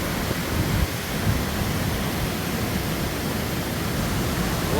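The Gopura Walla (Verawella) waterfall in Sri Lanka roars steadily, a loud, dense, unbroken wash of rushing water with no voices over it.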